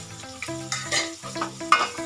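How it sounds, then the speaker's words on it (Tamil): Onion and curry leaves fry in a pan for kovakkai poriyal, with crackling sizzles and quick scraping stirs, close and moderately loud, with no talking. "லைட்டாக கிண்டிட்டு கொஞ்சமாக கருவேப்பிலையை எடுத்து அதையும் அது கூட ஆட் பண்ணிக்கோங்க"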